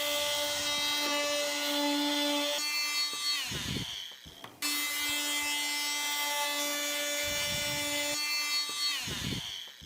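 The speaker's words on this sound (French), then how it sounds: "Et là, je découpe le tapis." A powered carpet cutter with a toothed blade, run along a ruler, whines loudly with a steady tonal drone for several seconds. Each run ends in a falling pitch and a rough scraping of the blade, and this happens twice in succession.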